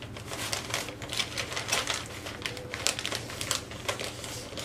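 Paper crinkling and rustling as a plant is wrapped round for a gift, a steady close-up stream of crisp crackles and rustles with no talking.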